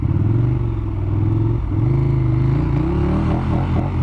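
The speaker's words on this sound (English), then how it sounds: "There's my boy on a Ducati again, cruising around." Ducati motorcycle rolling along a street in Uppsala, a loud, near engine drone with a brief dip then renewed throb, joined by some traffic rumble and clatter, with no talking.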